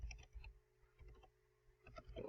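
Faint, close computer keyboard typing: a few soft, irregular key clicks in short bursts, with quiet pauses between them.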